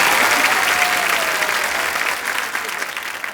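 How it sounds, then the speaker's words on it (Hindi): A studio audience on an Indian TV comedy show breaks into loud, dense applause that stays steady, then thins slightly toward the end. "इलियाना के लिए जोरदार तालियां।"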